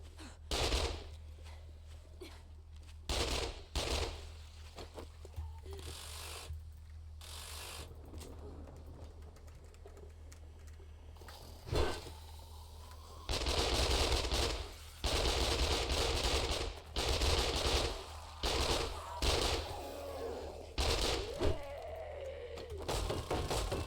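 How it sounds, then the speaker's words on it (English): Submachine gun fire in a video game, rapid bursts of automatic shots repeating in long stretches, loud and close, with game sounds and occasional voices between bursts. "this SMG is just so incredible for taking down whole rooms"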